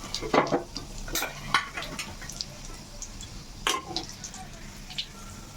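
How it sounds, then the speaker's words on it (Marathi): Curry leaves and chili powder hit hot oil in a tempering, giving a soft sizzle under a few sharp clinks and bursts of crackle, with someone speaking over it. "कढीपत्ता इथे मी घालत आहे तिखट"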